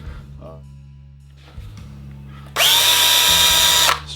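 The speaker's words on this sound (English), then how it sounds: "I need to drill out these holes." A power drill bores out holes in the rear chassis of an HPI Baja 5B Flux RC car, one loud sustained whine lasting over a second, preceded by quieter handling noises and a low steady hum.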